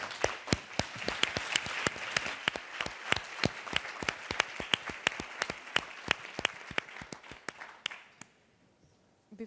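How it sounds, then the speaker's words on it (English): An audience at an evening conference session applauds with dense, sharp claps close by that keep a fairly even pace for several seconds before thinning out and fading to a few last claps. "Please join me in applauding them."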